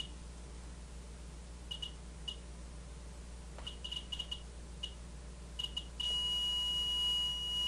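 A radiation detector sounds short high beeps, sparse at first and then quicker in small bursts, before switching to a continuous steady alarm tone near the end, fairly faint with no talk.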